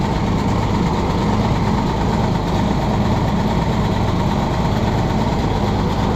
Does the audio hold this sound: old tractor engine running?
yes